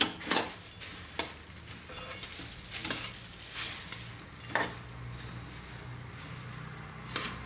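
Puffed rice (mamra) is stirred into hot jaggery syrup for ladoos, with repeated metallic spoon clinks and scrapes against the pan over a faint, low crackle at an uneven rhythm.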